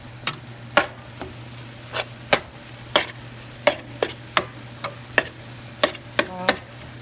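Chicken gizzards frying in a pan, sharp clacks of a utensil striking the pan at irregular intervals over a faint low sizzle, close and clear.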